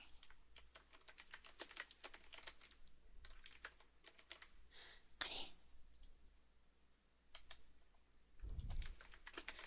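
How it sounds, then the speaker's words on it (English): Typing on a computer keyboard in a quiet room: bursts of rapid, close clicking keystrokes with short pauses, plus a soft breathy sound and a low thump near the end. "Sorry for the typing."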